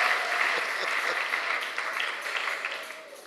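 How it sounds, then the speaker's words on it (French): A crowd at a church service applauds in a thick, continuous roar of clapping, with voices mixed faintly into the din as it slowly fades. "Applaudissons pour le Seigneur."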